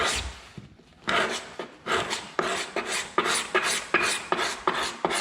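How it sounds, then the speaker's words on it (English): Repeated rasping scrapes of a hand scraper dragged with the grain across a hardwood floor, about a dozen strokes in a steady rhythm after a brief quiet moment. "Always be careful when you cross-grain scrape. Drag it with the grain."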